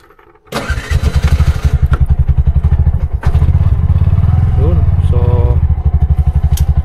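A Bajaj RE three-wheeler engine coughs to life and settles into a loud, rhythmic putter close by. There is a brief surge partway through, then it keeps chugging.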